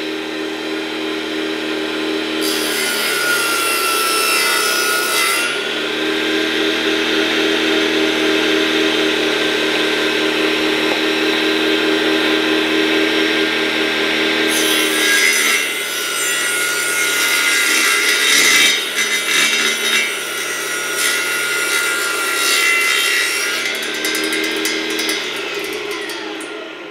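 Scratch-built mini bench saw driven by a 775 DC motor cutting half-inch MDF, a loud sustained whining hum that shifts in pitch and roughens as the blade bites, steady throughout with no talk.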